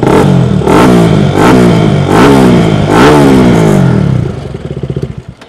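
A 2019 KTM RC200 with an Akrapovic exhaust revs hard in four loud rising bursts, close by, then settles into a rough, pulsing idle.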